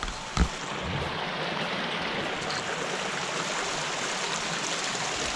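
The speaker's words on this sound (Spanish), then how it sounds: "Tremendo el arroyo." A mountain stream near the Yuspe river flows in a loud, steady rush of water, continuous and close, after one brief knock near the start, with no talk.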